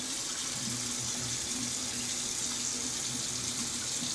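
Cold water runs steadily from a tap for rinsing after a shave, a continuous close splashing rush into a sink with no talking.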